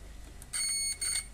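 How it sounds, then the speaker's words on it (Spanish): Multimeter continuity beeper sounding as probes touch a trace on a drop-damaged cordless drill battery charger circuit board: a short high electronic tone, broken into two quick beeps, close and fairly quiet, with no talking. "Ese pitido intermitente que está generando sencillamente es porque las placas llevan una especie de barniz"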